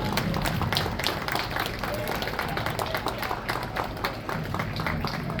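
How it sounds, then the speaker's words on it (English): Spectators clap along a Veterans Day parade route in Martinsburg, West Virginia, a dense, continuous outdoor patter of many hands with crowd noise mixed in, steady and fairly loud from start to end. "Let's have a round of applause for the Martinsburg VA Center 11th Hour Angels."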